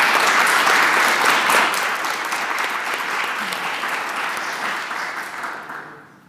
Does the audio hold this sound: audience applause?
yes